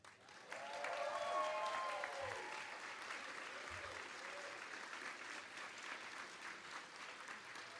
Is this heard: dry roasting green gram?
no